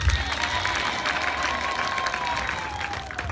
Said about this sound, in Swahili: Kama unabarikiwa, mpigie Yesu wangu makofi.